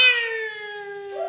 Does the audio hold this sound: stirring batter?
no